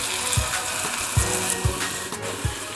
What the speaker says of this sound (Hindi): अब हम इसको ये फ्राई कर लेंगे सारे, और हल्की मीडियम आंच में